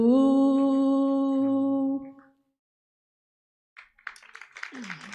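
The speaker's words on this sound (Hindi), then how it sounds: "तालियां बजाओ" Scattered clapping from an audience at a Jain religious gathering, starting after a sung note fades into silence; a brief, moderately loud patter of hands that grows denser toward the end.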